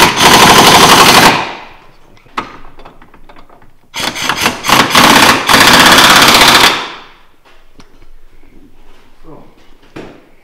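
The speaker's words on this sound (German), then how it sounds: "Jetzt noch die zwei Schrauben festmachen." Loud rattling bursts of a pneumatic impact wrench tightening the bolts on a VW Polo 6N control arm, two long runs separated by a short blip, then quiet workshop handling noises.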